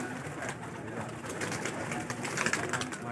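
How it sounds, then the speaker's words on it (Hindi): Pigeons on a rooftop loft coo softly and steadily against a noisy outdoor background. "माशाल्लाह कबूतर देखे कैसे खूबसूरत"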